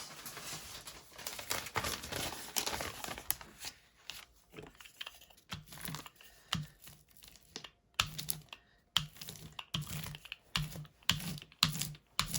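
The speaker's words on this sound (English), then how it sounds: "I actually want to take a piece of paper and" A rubber brayer rolls back and forth over a sheet of paper while a mixed-media card is made, giving a close, steady series of dry crinkling, tapping passes with short pauses between strokes.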